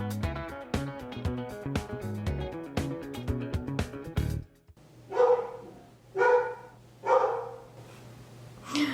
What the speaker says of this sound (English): That's the sound of our dog just having been in a pool and playing.